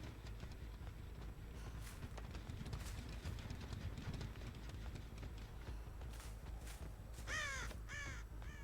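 Crows caw in a video game, a few harsh calls near the end over a busy rumbling backdrop with rapid hoof-like clatter throughout.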